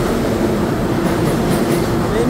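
Long subway train at the Jackson Heights station in Queens, New York, a steady loud rumble of wheels and cars running through the whole stretch with faint squeals near the end.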